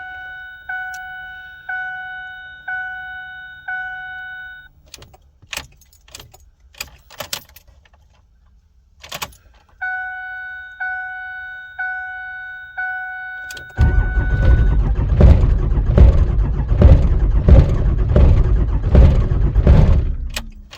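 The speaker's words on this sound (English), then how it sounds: "Now this is the coldest I've ever tried to start this truck." Repeated warning chimes ring as keys jangle, then a 5.9 Cummins diesel pickup engine cranks in cold weather with a rhythmic, laboring churn, loud and close, without catching.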